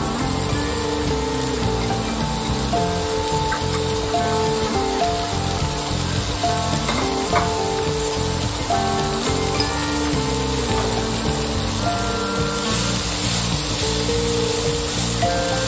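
Finely chopped cabbage fries in a pan for Maharashtrian kobi vadi, a constant rain-like hiss and crackle running steadily throughout at an even level, with some faint tonal hum underneath.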